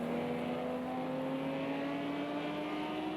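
A BMW and an Audi race car fight for third place at Spa in a sim racing endurance event, their engines droning in a steady, close, sustained whine with rising pitch and no talk.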